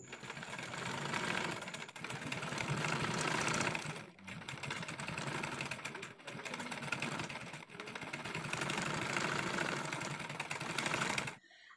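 A sewing machine runs in long steady bursts, stitching around the twice-folded edge of a frock-style nighty neck piece, with a brief pause or two between runs and no talking.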